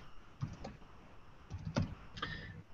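Soft, fairly faint keystrokes on a computer keyboard come in a few small clusters of clicks with pauses between them.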